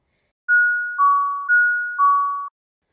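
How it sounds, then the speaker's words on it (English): A two-tone electronic doorbell chime rings clearly, high then low, repeated twice in an even ding-dong pattern, then falls silent. "I heard the doorbell ring"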